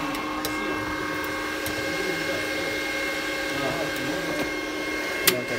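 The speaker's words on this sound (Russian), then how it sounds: "Вентилятор включился." Cooling fan of a Resanta 250A welding inverter running steadily, a constant whirring hum with a faint tonal whine, close and unbroken throughout.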